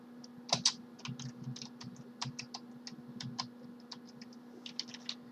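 A computer keyboard being typed on while entering a password for a Minecraft launcher, with quiet, irregular clicks and taps close by, spread over several seconds with short pauses and a louder final keystroke.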